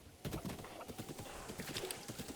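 A horse in the video game Breath of the Wild trots along in a quick, steady clip-clop of hooves, fairly soft and without any voices over it.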